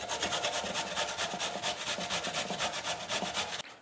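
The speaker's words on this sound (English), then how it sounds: "Grab your grater, a potato." A potato being grated by hand on a grater, a steady run of close, rhythmic rasping strokes, about three per second, that stops abruptly near the end.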